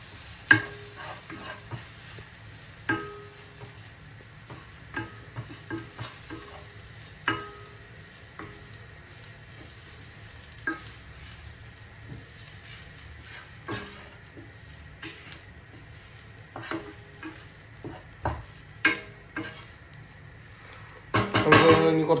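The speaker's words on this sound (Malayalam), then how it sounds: "അപ്പോൾ ഇത്രയും സാധനം ഇട്ട് നമുക്ക് നന്നായിട്ടൊന്ന് ഇളക്കി കൊടുക്കാം." A spoon stirs chili powder and chicken masala in a pan for Kerala-style egg curry, giving repeated soft scrapes and clinks against the metal over a faint sizzle, spaced irregularly and close by.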